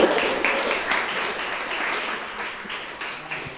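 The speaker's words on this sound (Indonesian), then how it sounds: "Oke, berikan aplaus itu." A classroom of students applauds steadily, a dense, even wash of many hands clapping that holds for a few seconds at fairly loud level, with faint voices mixed underneath.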